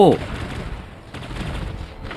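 Gunfire in the robot battle video game War Robots: a sharp opening shot followed by continuous rumbling bursts of weapon fire.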